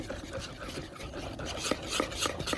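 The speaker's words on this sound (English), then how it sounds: "we're gonna whisk it until we get our beer batter" Whisking beer batter in a bowl, a steady close scraping and stirring with quick rhythmic strokes of the whisk against the bowl sides, no voices.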